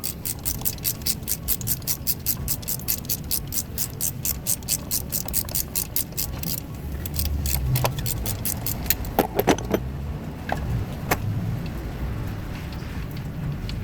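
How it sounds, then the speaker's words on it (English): Ratchet removing the 14 mm starter bolts on a 2005-2010 Hyundai Tucson 2.6, a fast steady clicking that runs for several seconds, then slower scattered clicks and metal clinks, close and fairly quiet. "these two bolts are 14 millimeters, so just go ahead and continue to remove them."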